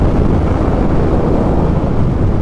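Steady, loud wind roar buffets the microphone while a Honda CB 350 RS motorcycle cruises at 100 km/h. The rushing air masks any distinct engine note throughout.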